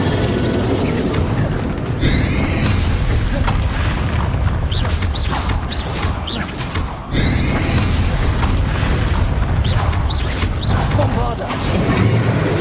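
Confringo fire spell explosions from Hogwarts Legacy, booming blasts and crackling bursts repeating through a dense, loud combat mix with other spell effects layered together.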